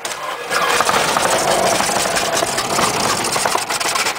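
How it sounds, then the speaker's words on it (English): A Cessna 172 piston aircraft engine catches and runs, a steady loud mechanical drone with rapid firing pulses that continues after a brief quiet opening. "Now we're going to start the engine."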